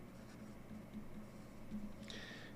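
LMZ Grande 2.0 Stardust fountain pen nib scratching across paper in short, faint strokes, quiet and close, with a brief brighter scrape near the end.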